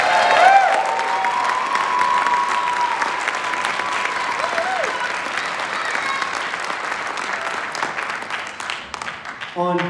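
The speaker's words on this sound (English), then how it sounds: "applause for these wonderful students." Sustained applause from a large audience at an honor band concert fills the room, steady and loud throughout, with a few faint voices and cheers mixed in.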